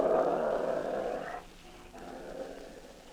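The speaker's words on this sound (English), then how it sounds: "He circled it, growling low in his throat." A dog growls low in its throat in a radio drama, a sustained rumbling snarl that fades midway and then resumes more softly.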